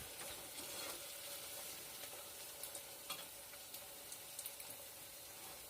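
Sauce caramelizing in a pan gives off a soft, steady sizzle with faint scattered pops and light stirring scrapes, quiet and without voices.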